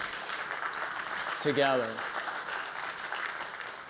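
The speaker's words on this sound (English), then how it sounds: "let's give them a round of applause for getting us all" Audience applause at a customer-growth keynote fills the room with a steady wash of clapping, while a voice speaks briefly over it near the middle.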